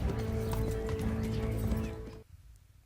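A horse is ridden off at pace in the medieval game Kingdom Come: Deliverance. Rapid hoof clip-clop and a whinny sound over a busy, loud game soundscape that cuts out abruptly near the end.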